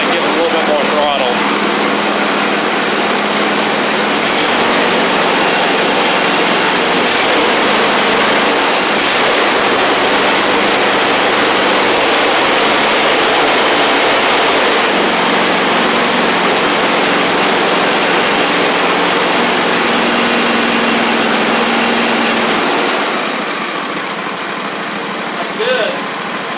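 A John Deere garden tractor engine with a holed engine block runs steadily at raised throttle, a loud continuous drone that holds nearly to the end before dropping away, with voices talking over it.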